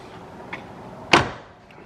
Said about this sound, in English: The doors close as they should,